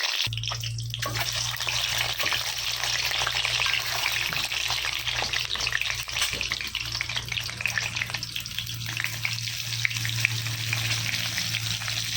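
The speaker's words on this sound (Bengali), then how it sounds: "তেল কিন্তু গরম হয়ে গিয়েছে এখন আমি ডিমগুলো দিয়ে দেবো একটা করে" Eggs fry in hot oil seasoned with turmeric, giving a loud, continuous crackling sizzle that carries on without a break, with no voices heard.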